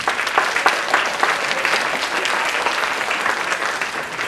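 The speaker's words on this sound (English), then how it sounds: "So give yourselves a round of applause." A middle school spring vocal concert audience breaks into dense, loud applause that fills the hall evenly for a few seconds, with no one speaking over it.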